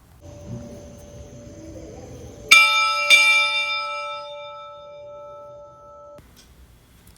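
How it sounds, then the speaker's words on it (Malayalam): A prayer bell at Santhigiri ashram in Kozhikode is struck twice in quick succession before evening prayer, each loud clang ringing out and slowly fading in an otherwise quiet setting. "ആറ് നാൽപ്പത്തഞ്ചിനാണ് പ്രാർത്ഥനാ സമയം ഒരു മണിനാദം കേൾക്കാം"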